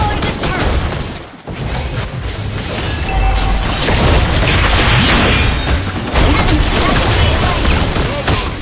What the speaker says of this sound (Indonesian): Your team destroyed the turret.